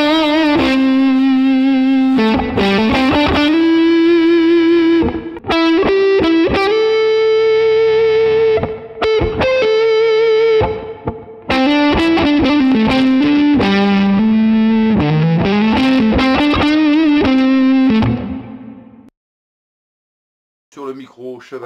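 Harley Benton JA-60 electric guitar with Roswell pickups played through heavy distortion, a loud continuous run of sustained, saturated notes and chords that cuts off near the end, followed by a short quiet tail.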